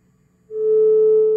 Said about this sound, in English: We'll go with a sine wave so we can actually hear the clean signal